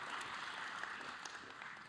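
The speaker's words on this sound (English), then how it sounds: "Let's have a huge round of applause for those joining us here in person today." Steady crowd applause at an honor society induction ceremony, a dense wash of many hands clapping at moderate volume, continuing evenly throughout with no talking.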